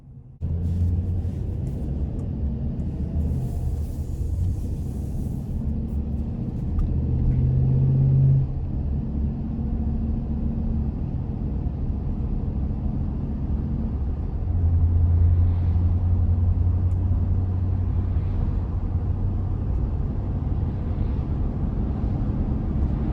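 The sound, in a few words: 2020 Chevrolet Express 2500 conversion van driving on road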